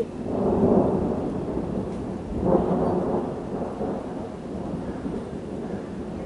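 Deep rolling thunder that surges twice and slowly trails off, over a steady wash of falling rain.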